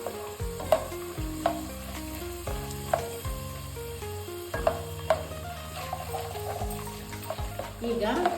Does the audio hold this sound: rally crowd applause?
no